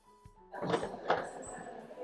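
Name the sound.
Lexus emergency manual fuel door release popping open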